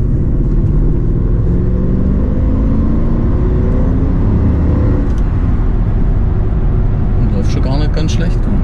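A Mercedes C-Class W203 fitted with a transplanted M273 V8 engine drives along, heard from inside the cabin as a loud, constant low engine rumble and road roar. People talk over it throughout.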